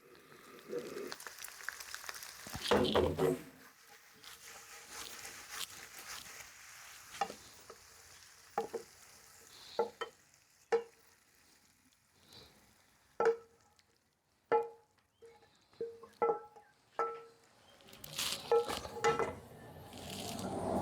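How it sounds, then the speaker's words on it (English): Boscaiola pasta scooped from a pan into a bowl: a string of sharp utensil clicks and scrapes against the dish, with soft sticky stirring and faint sizzling between them, no voices. "So let's put the pasta in a bowl"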